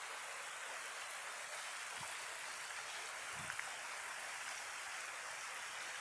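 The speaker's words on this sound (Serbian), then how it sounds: "Reka koja izvire na Povlju." A river stream flows steadily near its spring in a mountain area, a constant broadband rush of water without pause, moderately close and undisturbed by voices.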